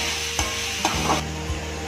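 Garlic sautéing in a pan for a large gooseberry chutney, a close sizzle with a few distinct spatula scrapes and knocks as it is stirred, over a faint steady hum.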